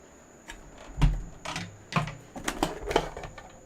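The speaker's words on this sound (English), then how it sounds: "let me go ahead and die cut this. So let's bring out the big shot." A Big Shot die-cutting machine being cranked for a shaker card, giving a string of clunky mechanical clacks and rolling thumps in uneven bursts, close and moderately loud with no talking.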